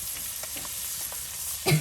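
Koi fish fries in a pan with a soft, steady sizzle and a faint hiss, ending in a brief louder clatter near the close.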